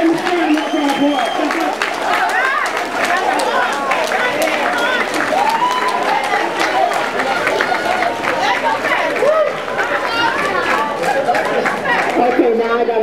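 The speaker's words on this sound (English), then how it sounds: "Let's give the library a nice round of applause." A large crowd at a community library dedication claps continuously amid loud chatter and scattered cheers, a dense, sustained wash of applause filling the room.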